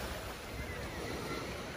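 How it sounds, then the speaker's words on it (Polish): Small waves break gently on Nai Tao Beach in Phuket, a steady, close wash of surf with breezy rumble and no distinct individual crashes. "I tylko tak, taki dźwięk normalnie, jeszcze nigdy żeśmy takiego dźwięku nie słyszeli, rozbijających się fal."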